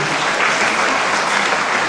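Dense, steady applause from a large audience at a musical, loud and continuous throughout with no voices standing out.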